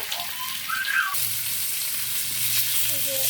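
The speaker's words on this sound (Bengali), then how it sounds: "এই মাছগুলো ভেজে নিলে আমাদের মাছ ভাজি করা শেষ" Fish pieces frying in hot oil: a dense, steady sizzle swells suddenly after a quieter start and then holds strong and even, with faint indistinct sounds in the background.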